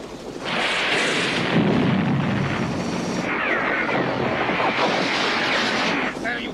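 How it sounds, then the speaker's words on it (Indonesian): A helicopter sweeps in during a film scene and rakes the area with gunfire, a dense, loud continuous roar of rotor noise and shooting that fills the whole stretch with little let-up. "terlihat sebuah helikopter datang ke sana, yang langsung menghujani tempat tersebut dengan peluru"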